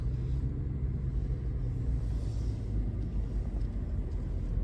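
A vehicle on a farm rolls in with a steady low engine rumble that holds even and close throughout, with no clear slowdown or stop audible.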